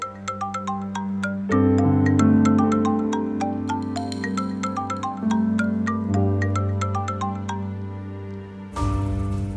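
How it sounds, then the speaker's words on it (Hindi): A mobile phone ringtone plays loud and close, a repeating bright melodic chime over a sustained tone, cycling continuously before switching to a different note pattern near the end. "बारान, तुम्हारा फोन"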